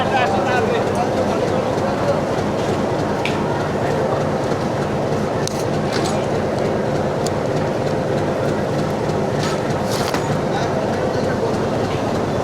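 Steady loud rumble of a train engine and carriages in Bangladesh with a constant low mechanical drone and occasional faint metallic clinks, heard from close by.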